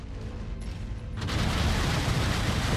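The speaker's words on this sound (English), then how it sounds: "Let's try to keep missiles on him." Short-range missile salvo from an SRM-20 launcher in MechWarrior 5: Merc Tech; a quiet mechanical rumble builds into a loud, dense burst of launches and blasts that sustains to the end.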